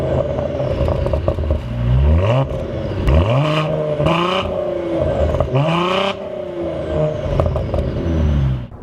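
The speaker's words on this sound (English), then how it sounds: "This isn't a bad sounding engine by any means." Cadillac ATS-V turbocharged six-cylinder engine revving loudly, with repeated rising and falling sweeps of its note over a steady idle drone, close and sustained.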